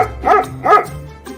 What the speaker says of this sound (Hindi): अन्य जानवरों के झुंड को देखकर कुत्ता जोर जोर से भौंकने लगा।